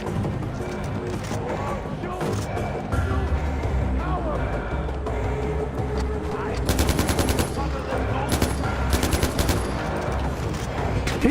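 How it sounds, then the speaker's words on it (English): Gunfire in the video game Far Cry 4, dense bursts of automatic shots layered with game music and effects, intensifying toward the end, with a voice talking over the action. "He's shooting through friggin' walls."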